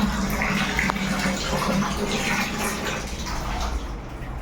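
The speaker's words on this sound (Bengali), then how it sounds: "ওয়াশরুমের কলটা খুলে রেখেছি বালতিটা ধরে যাচ্ছে" Tap water in a washroom runs into a bucket, giving a steady, close, continuous rush of pouring water with no talking.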